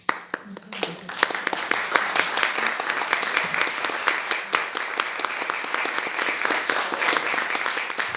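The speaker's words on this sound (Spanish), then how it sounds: "Un aplauso a tu madre." An audience at a doctoral thesis defense breaks into sustained applause, a dense wash of many hands clapping at steady volume, with a voice heard briefly near the start.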